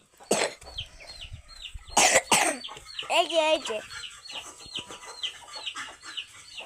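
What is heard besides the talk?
chickens and chicks clucking while fed rice and flour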